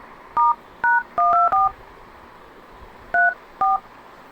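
Phone keypad tones beep as a secret code is entered on a mobile phone, six short electronic beeps in two quick bursts separated by a brief pause, loud and close.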